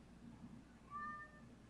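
A cat gives one clear, drawn-out meow at moderate distance, rising out of a steady low background hum, with quiet moments before and after.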